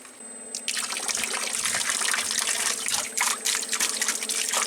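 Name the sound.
solar water pump running and pumping water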